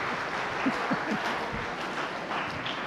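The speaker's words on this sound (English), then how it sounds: "Now, can you take your hands and clap to the other winners?" An audience at a keynote session claps steadily in a loose, continuous patter of many hands, moderately near and without talking.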